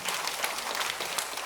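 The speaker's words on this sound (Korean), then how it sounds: "우리 격려의 박수 한번 더 해주십시오" Church congregation applauding during a Sunday morning service, a dense steady wash of many hands clapping, moderately faint and evenly sustained for a brief moment without voices.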